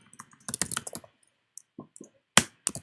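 Fast bursts of clicky keystrokes on a computer keyboard as a command is typed, a quick flurry followed by scattered single taps and a final sharp key press, close and clear with no talking.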